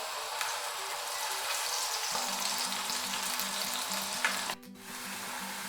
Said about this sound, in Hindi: प्याज को सुनहरी कर लेते हैं।